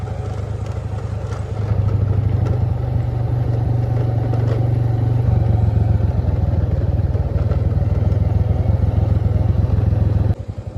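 A big motorcycle's engine chugs steadily with a rhythmic, clattering throb, rising a little in loudness after the first couple of seconds and continuing close by with no talking.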